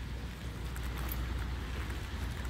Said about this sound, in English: I'm filming with the phone because it's raining right now.